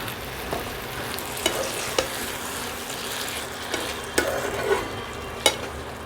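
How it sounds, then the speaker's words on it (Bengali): Potatoes frying in a pan as orange juice goes in and they are stirred, a steady close sizzle with scraping strokes and sharp knocks of the spoon on the pan every second or so. "দিয়ে দিচ্ছি অরেঞ্জ জুস"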